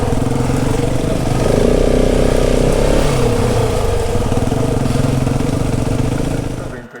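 A dirt motorcycle on a rough Australian adventure trail roars loud and close, its engine revving hard as the rear tyre throws up a long roost of dirt and debris, then the noise drops away at the end.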